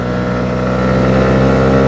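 A 2021 Honda CB125R's engine hums steadily while the bike cruises along, a loud, close, even tone that rises slightly toward the end with no voices.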